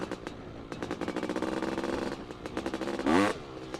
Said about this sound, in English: so two-stroke wheelies now.